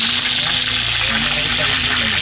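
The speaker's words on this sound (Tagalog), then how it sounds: "Ganyan po ako nagpa-fried chicken mga idol." Chicken pieces fry in hot oil without any flour coating, giving a close, steady crackling sizzle with a low bubbling undertone throughout.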